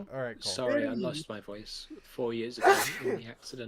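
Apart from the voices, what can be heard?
sneeze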